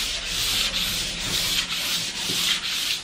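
Wooden thrift-store furniture being hand-sanded smooth before a light whitewash stain, a steady back-and-forth rasping with regular strokes, close and alone.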